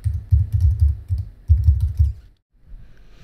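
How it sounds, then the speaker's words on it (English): Dense bursts of rapid computer keyboard typing as a domain name is entered, two close clusters of quick clicks followed by a brief pause and a few softer taps. "And I'll type in the domain name."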